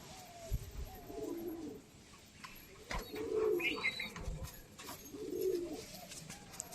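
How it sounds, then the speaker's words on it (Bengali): A Punjabi breeding pigeon coos close by in three soft, low rolling calls spaced a couple of seconds apart, with faint background noise and a few light knocks. "এটা হলো আমার পাঞ্জাবি মেন ধাড়ি পায়রা, যেটা দিয়ে আমি ব্রিডিং করি"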